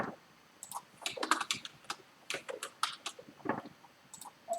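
Someone types on a computer keyboard while coding, with irregular bursts of close, crisp key clicks and short pauses between runs, and no talking.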